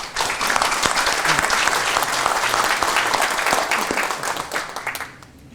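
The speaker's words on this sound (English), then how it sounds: "Let us give all of them a warm round of applause" Warm, full applause from a large forum audience in Seoul, steady and dense for about five seconds before fading out at the close.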